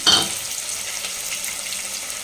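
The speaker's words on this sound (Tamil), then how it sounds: "வெங்காயம் வந்து நல்லா வதங்கட்டும்" Onions sautéing in hot oil for a kurma give a steady broad frying hiss close by. It opens with a brief louder clatter and then stays even and continuous with no talking.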